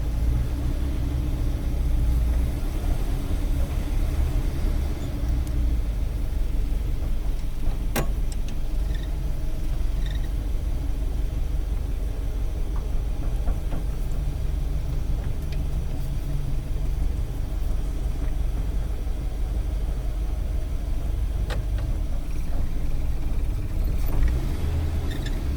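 A 1956 Cadillac Sedan DeVille engine with a carburetor needing tuning runs steadily while the car is parked, a continuous low rumbling idle with little variation and one faint click.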